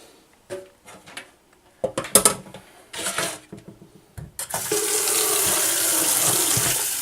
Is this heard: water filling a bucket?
yes